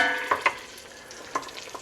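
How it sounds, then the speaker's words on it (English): A stick of butter melts in a pan with a low, even sizzle. A few sharp clinks and scrapes from a utensil against the pan stand out clearly near the start and once more midway. "We got about a stick of butter getting melted up in here."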